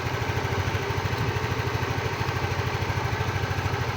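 A repaired motorcycle engine idles steadily close by, a rapid even putter with a constant throbbing pulse, no voices.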